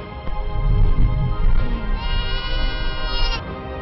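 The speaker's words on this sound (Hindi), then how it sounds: "125 के करीब बकरियां और भेड़ें" A flock of about 125 goats and sheep in Ladakh bleating loudly and close by, several overlapping calls rising and falling over a few seconds with no talk.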